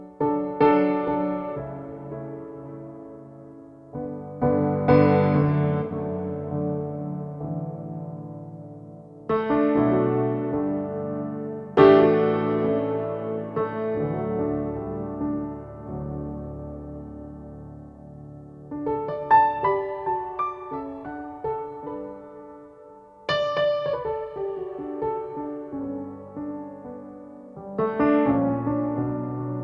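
A Nord Piano 5 with layered grand and upright piano sounds plays a slow, gentle piece in D: spaced chords and melody notes struck one by one, each ringing out and decaying, close and clear with no talking.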